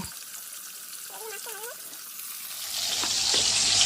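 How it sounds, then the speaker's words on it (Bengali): Pieces of fish frying in a pan at home, a steady sizzle that swells louder toward the end, with a brief voice-like sound partway through. "তো চলো এদিকে মাছটা ভাজা হোক"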